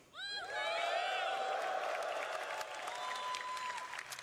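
An audience at CitizenCon bursts into sustained applause, cheering and whoops, rising sharply and holding loud for several seconds, with a few whistles over the clapping.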